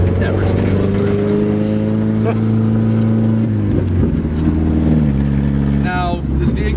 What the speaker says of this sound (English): we are special guests with our diesel sounding Rav4